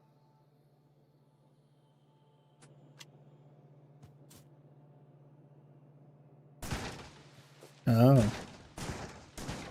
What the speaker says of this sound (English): Let's see how good shotguns are.